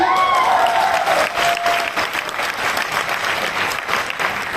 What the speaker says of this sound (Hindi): बजाइए ताली अपने लिए